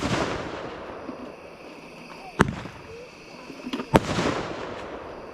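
Fireworks bursting at a birthday party, with two sharp, loud booms about a second and a half apart over a steady outdoor rumble and crackle. Faint voices carry in the background.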